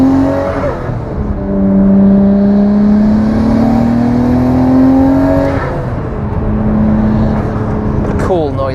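A Nissan Skyline R34 GT-R engine revs after a downshift to second gear, a loud, close rising whine that climbs steadily, eases off, then builds again, with someone talking over it.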